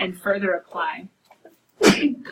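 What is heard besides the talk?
sneeze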